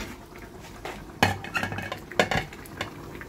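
A lid lifted off a pot of rolling boiling water for chicken biryani, a sharp metallic clank followed by a few more clinks and rattles of metal cookware against a quiet bubbling background, close and without speech.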